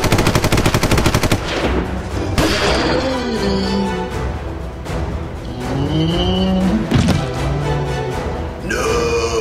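Rapid automatic gunfire crackles loudly in a dramatic action scene, blended with a dense roaring mix of engine and whooshing effects that runs continuously throughout.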